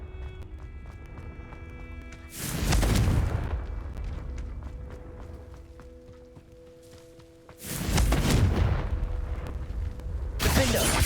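Confringo fire spells in Hogwarts Legacy burst in three loud explosions, each a roaring blast that trails off over a couple of seconds, separated by quieter game ambience with a faint musical hum.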